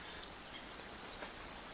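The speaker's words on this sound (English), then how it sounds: "Just the sound of the ambiance. The crickets." Crickets chirp faintly in the quiet outdoor ambience of the game Eastshade, a thin, steady, distant trill with nothing else going on.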